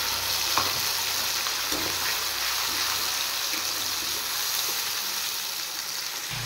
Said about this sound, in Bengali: এবার আমি পেস্ট করে রাখা পেঁয়াজ দিয়ে দেব।